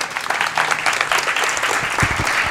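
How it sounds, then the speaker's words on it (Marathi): An audience at a Marathi lecture by Ganesh Shinde claps loudly and steadily, a dense continuous wave of applause filling the hall without speech over it. "टाळ्या वाजत राहायला पाहिजे जोरदार."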